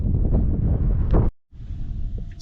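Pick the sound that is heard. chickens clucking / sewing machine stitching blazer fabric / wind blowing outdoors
wind blowing outdoors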